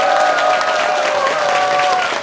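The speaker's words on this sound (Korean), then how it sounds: "여러분 큰 박수로 환영해 주세요." An audience applauds in a hall to welcome a guest speaker, Professor Lee Min-hwa, onto a regional Jeonbuk television programme; steady, dense clapping continues throughout with faint tonal music underneath.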